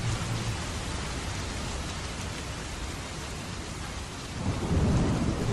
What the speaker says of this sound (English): Cue the rain.